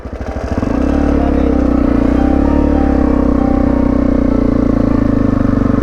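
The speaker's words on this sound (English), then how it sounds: "I wasn't revving very hard, but the bike was going nowhere" A 300cc two-stroke enduro motorcycle revs up from a sputter into a sustained buzzing drone that holds steady and loud, close by, with no voices.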